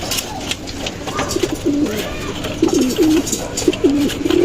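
Homing pigeons coo close by after returning from a flight, a few low rolling calls that repeat under steady outdoor background noise.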